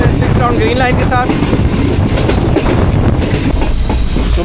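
A Green Line 6 Down express train runs through Karanda station in Pakistan, heard from on board. The loud rumble and rhythmic clatter of the wheels continue steadily throughout, with brief squealing near the start.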